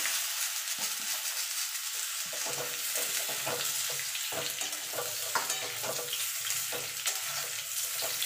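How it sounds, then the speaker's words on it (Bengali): Papaya and potato fry in oil in a pan, giving a constant close sizzle broken by frequent stirring scrapes and knocks. No one speaks. "এই তেলে আমি পেঁপে আলুটা ভেজে তুলে নেব।"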